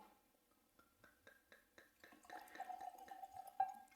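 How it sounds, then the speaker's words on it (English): Glenmorangie The Accord 12-year-old Highland single malt whisky is poured from a bottle, giving a faint, close run of soft glugs and trickling liquid that rises steadily into a fuller pouring sound. "That is a very satisfying little glug of the bottle."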